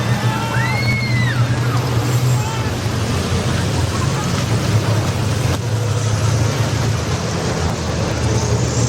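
Diesel school buses race around a figure 8 track, engines roaring and rumbling amid crowd noise, with a commentator talking over the continuous traffic-like din.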